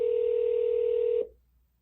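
A single steady telephone tone holds for about a second before cutting off abruptly into quiet, clean and unaccompanied by voices.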